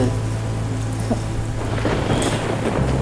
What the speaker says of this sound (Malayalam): നല്ല മഴ പുറത്തു